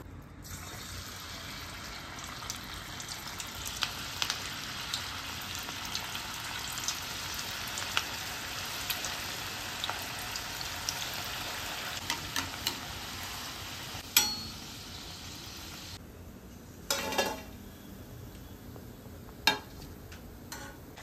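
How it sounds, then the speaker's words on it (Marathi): Steady sizzling of bhaji fritters frying in oil continues throughout, with occasional sharper pops and a few clinks of utensils. "भजी तळण्यासाठी आता इथे मी तेल घेते"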